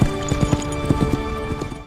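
Hooves clip-clop in a steady, even rhythm, close and fairly loud over a low hum, tapering off at the end.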